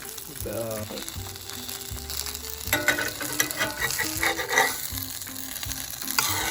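Taco meat frying in a pan, a continuous close sizzle with louder bursts of stirring and clatter midway, over faint background music.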